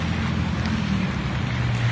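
Steady rain falls on a downtown street, a dense continuous hiss and patter with a low rumbling wash underneath and no talking.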